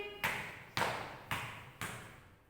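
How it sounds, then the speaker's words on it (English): Children tap their feet on the floor in time during a nursery counting activity, four distinct taps roughly half a second apart, close by and ringing briefly, with no talk over them. "Then tap your feet like this."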